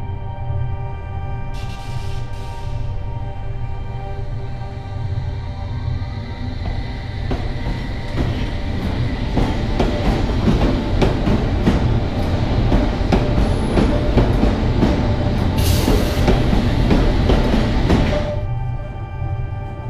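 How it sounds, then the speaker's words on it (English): Underground train in a tunnel rumbling and rattling as it gathers speed, wheels clacking and a brief squeal, loud and close with a steady drone throughout. "Then the train pulled off."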